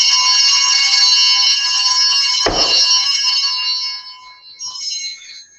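Altar bells rung by a server at a Catholic Mass during the exit procession, a bright sustained metallic ringing that shimmers loudly throughout, with one sharp clash midway before the ringing fades out.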